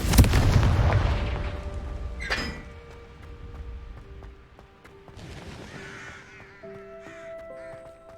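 A Confringo fire spell bursts in the Hogwarts Legacy video game, with a loud booming blast up front followed by a sharp crackling hit, then a fading rumble and scattered game effects.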